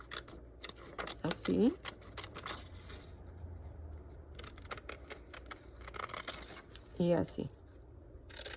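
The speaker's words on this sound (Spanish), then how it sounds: "Voy a eliminar esta pieza de acá" Scissors snip through a paper pattern piece for basic women's trousers in two short bursts of crisp cutting, close and fairly quiet, with someone talking softly between cuts.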